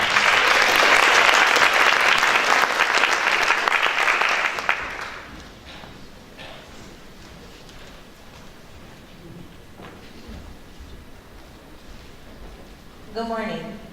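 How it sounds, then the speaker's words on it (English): Loud applause from a rally crowd at Texas A&M, a dense burst of clapping for about five seconds that fades out, followed by quieter room noise and faint murmuring, with a brief clatter at the end. "let's give her a round of applause as she comes"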